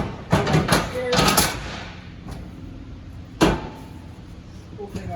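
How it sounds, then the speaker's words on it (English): A 2025 Forest River Wildwood 178BHSK camper trailer door unlatches and swings open with a few sharp clunks and rattles, then another solid knock a couple of seconds later, close by. "Opening up your door."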